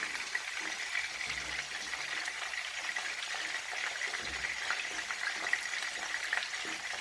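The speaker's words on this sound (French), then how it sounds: "une fois que j'ai fini de dorer les poissons salés, je vais venir faire la sauce" Salted fish browning in a frying pan, a steady dense sizzle of frying oil running unbroken throughout, fairly close, with no voices over it.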